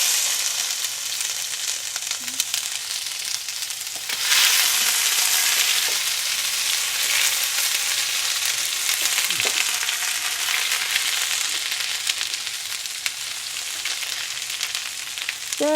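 Ginger and browning onions fry in a pan for chicken curry, giving a steady, close hiss that swells into a louder sizzle a few seconds in and then stays even to the end.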